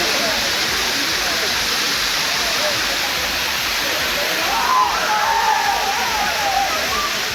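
Suruli waterfall near Kambam in Theni district, Tamil Nadu, where tourists bathe: a loud, steady broadband rush of falling water fills the scene, with faint splashing and voices blending into the roar.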